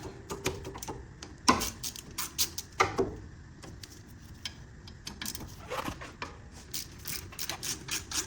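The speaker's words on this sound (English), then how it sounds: "Now you take your 13mm socket and a ratchet and break these free." A hand ratchet with a 13mm socket clicks in quick irregular runs while loosening the brake caliper bolts on a 2012 Jeep Wrangler, with a couple of louder clanks of metal on metal mixed in.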